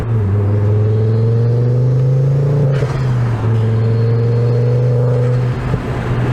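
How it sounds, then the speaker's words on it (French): A Ford Focus RS engine idling and revving, with a deep steady rumble from intake and exhaust and a rising, falling whine as the throttle is blipped, heard close with no talk. "On entend aussi bien l'aspiration que la décharge."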